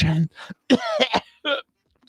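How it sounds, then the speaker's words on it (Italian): Someone speaking Italian breaks into short, close coughing and throat clearing that is mixed with and broken up by his talk. "un po' di tosse"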